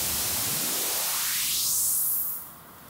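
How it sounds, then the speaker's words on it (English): White noise swept by a high-pass filter on a DJ mixer-style setup: a steady hiss that steadily thins from full broadband to a bright, airy top-end sizzle, then drops in level near the end. "If you're running white noise through the high pass sweep, it sounds like this."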